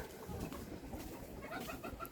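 Bantam chickens and roosters cluck and squawk in a busy, overlapping chorus, with scattered higher calls from the birds throughout and no one speaking.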